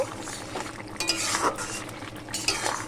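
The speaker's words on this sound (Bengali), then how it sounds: "এবার আমি ঢাকনা খুলে দেখে নেব প্রায় হয়ে গেছে আমার সিদ্ধ" A pot lid comes off a pot of simmering jute leaves with a few light metallic clinks and scrapes over a soft bubbling, stirring background. The sounds are close and brief, with no speech.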